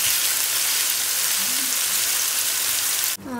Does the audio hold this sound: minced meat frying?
yes